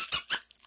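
A small bone-shaped rubber dog toy squeezed twice, giving two sharp, close squeaks in quick succession, followed by quiet.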